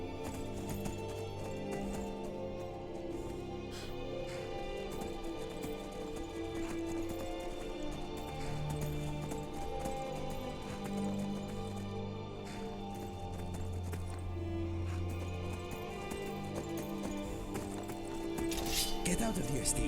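Horse hooves clip-clopping steadily in the Skyrim video game, faint and continuous under a voice talking in the foreground.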